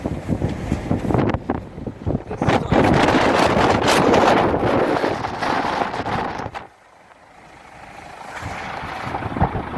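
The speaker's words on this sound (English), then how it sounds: "you can listen. That wind," Strong wind from a rare once-in-ten-years storm roars and buffets across hilly ground near a valley, loud and gusty for most of the stretch before easing to a lower rush.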